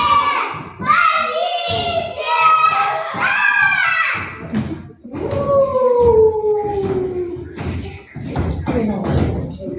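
A performer in a children's stage play of The Three Little Pigs imitates a wolf with several rising and falling vocal howls, close and loud, mixed with shouted dialogue and thumps.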